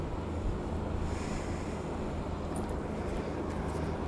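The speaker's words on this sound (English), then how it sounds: "And we got to deal with the yacht waves now." Waves from a passing yacht slap and wash against a fishing boat on a lake during a bass tournament, a low continuous churning with wind noise on the microphone and faint higher splashes, fairly quiet.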